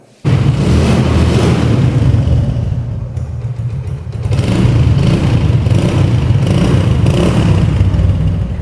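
A Hero Honda Splendor motorcycle engine kicks into life after a brief quiet moment, then idles and revs loudly close by, a dense continuous rumble that dips briefly before rising again.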